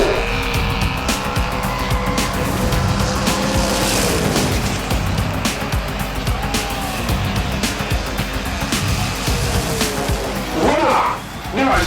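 Hot Wheels diecast cars race down a track with a continuous rolling rumble and sharp clattering impacts from crashes, while a commentator talks excitedly over the action.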